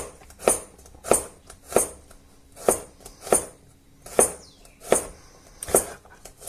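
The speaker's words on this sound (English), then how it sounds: "chopping the garlic up." Knife chopping garlic on a cutting board, eight or nine crisp, evenly spaced knocks close by with no talking.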